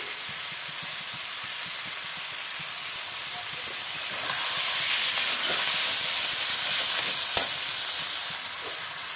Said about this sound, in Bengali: মশলার সাথে ভালো করে কষাবো চিকেনটা।